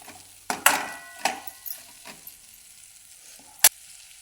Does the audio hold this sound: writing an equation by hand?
no